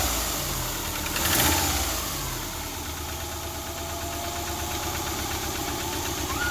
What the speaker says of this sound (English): Nice little valve tap going on